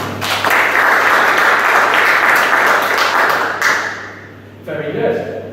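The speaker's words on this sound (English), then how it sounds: "Give her a round of applause." An audience at an entrepreneurship talk applauds: a burst of steady, dense clapping that fades after a few seconds, followed by a short stretch of speech.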